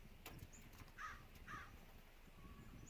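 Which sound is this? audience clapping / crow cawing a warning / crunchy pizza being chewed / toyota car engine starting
crow cawing a warning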